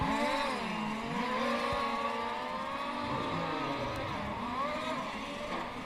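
Race car engines at the Velp Race Car Series practice session, revving and droning steadily with rising and falling pitch sweeps, fairly loud and continuous throughout with no talk.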